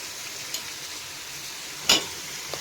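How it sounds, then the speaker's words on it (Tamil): Onions sauté with salt in a pan for mutton dum biryani, giving a steady soft sizzle with a few faint clicks and one sharper clatter partway through; no voices. "வெங்காயம் வணங்கிட்டுருக்கு"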